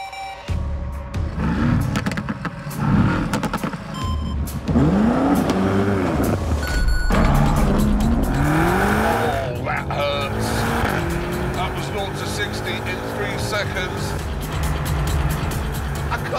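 A Mercedes AMG and a BMW M5 launch in a drag race, engines roaring loudly through rising gear changes with brief tire noise, accelerating hard and continuously while someone talks over them.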